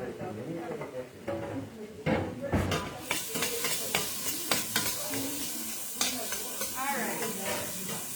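Vegetables for a red lentil soup sauté in a pan, a soft steady sizzle with repeated scraping stirs of a spatula, while a person talks over the cooking.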